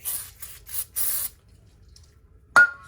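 Penetrating oil is sprayed onto the wheel bearing of a 2009–2012 Nissan Altima 2.5 in several quick close hissing bursts, followed after a pause by a sharp clink.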